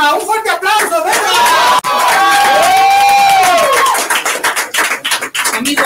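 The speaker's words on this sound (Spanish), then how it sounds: "¡Un fuerte aplauso!" Open mic crowd cheering and shouting with scattered clapping, loud and continuous with whoops rising over it, as the host keeps talking throughout.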